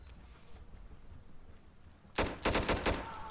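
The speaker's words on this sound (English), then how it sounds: "That's a lot of gunfire." Gunfire in the video game Insurgency breaks out after about two seconds of low ambient rumble, a rapid burst of loud, sharp shots in quick succession.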